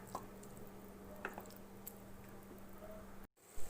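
Macaroni payasam being stirred in a pan with strained palm jaggery water gives soft, wet squishing and sloshing sounds with a few sharper splashes. The stirring is close and steady over a low background hum, then cuts off briefly near the end.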